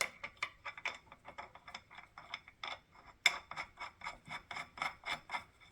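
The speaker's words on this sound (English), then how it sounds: "And I'll tighten this with the wrench off screen." A nut is ratcheted tight with a wrench on the flywheel of a Concept2 Model D rowing machine, giving a rapid, even series of close clicks and rasps with no talk.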